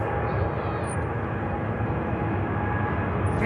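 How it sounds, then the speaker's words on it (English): A Boeing 787 Dreamliner at Manchester Airport, bound for Mumbai, gives a steady, loud, broad roar of jet engines that holds evenly throughout, with no voices. "Dreamliner heading to Mumbai in India."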